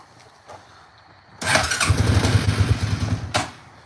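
A cold-natured four-wheeler ATV is started on throttle with no choke. After a few faint clicks, the engine catches and revs roughly for a couple of seconds, loud and close, then drops back with a sputter.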